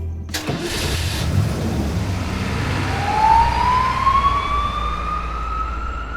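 An ambulance siren arrives: after a sharp thump, an engine rumbles and a wailing tone rises steadily in pitch, growing louder as it approaches, with no voices.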